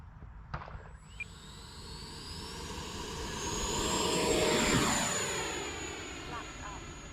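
E-flite Viper RC jet plane flying overhead, a smooth rising and fading ducted-fan whine that swells to its loudest midway as it passes close, then recedes, with people talking at the start.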